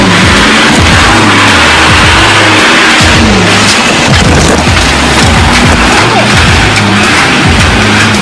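A heavy truck engine roars loud and close as the vehicle pushes through jungle terrain, its revs rising and falling continuously with rough, grinding texture throughout.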